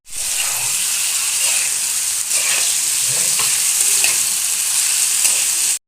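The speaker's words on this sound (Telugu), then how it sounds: "ఇప్పుడు ఇది మనం హీట్ అయిన ఆయిల్లో వేసుకుందాం." Peeled potatoes, soaked in salt water, drop into hot oil in a pan with cumin and fry. A loud, steady sizzle holds close and continuous throughout, with faint stirring scrapes.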